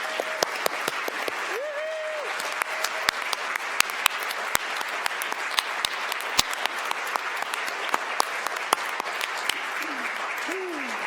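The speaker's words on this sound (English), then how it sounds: "And so let's give John an applause that he can hear right now." Applause from the audience at a school board of education meeting, steady dense clapping throughout with sharp individual claps standing out and faint voices mixed in.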